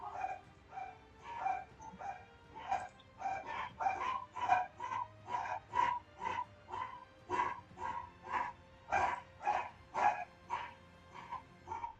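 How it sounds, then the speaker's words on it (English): Several dogs bark repeatedly in a steady, rhythmic run of sharp, fairly close barks that carry on for the whole stretch, with no talk over them. "Why are they barking?"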